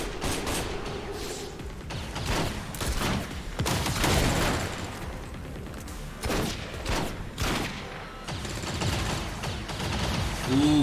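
Gunfire in the strategy game XCOM 2: repeated bursts of automatic fire and single shots crack through a steady battle din, loud and close, with occasional booms and no talking.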